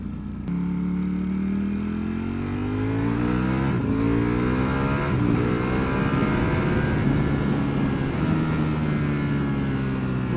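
A Ducati V4 Panigale engine revs hard and loud, climbing in pitch through the gears with brief shifts around the middle, a sustained high-revving wail close by and no voices.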